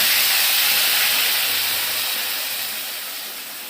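Pointed gourd paste blended with green chilli, garlic, onion, turmeric and sugar hits hot oil in a wok, giving a loud, steady steam-like hiss that fills the whole stretch and slowly fades.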